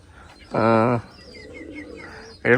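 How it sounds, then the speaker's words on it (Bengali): Tiger Sundari Giribaz pigeon cooing close up: one loud, steady coo lasting about half a second, a quieter murmur, then another coo starting at the end. "টাইগার সুন্দরী খুব সুন্দর কবুতর"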